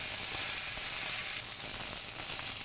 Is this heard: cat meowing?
no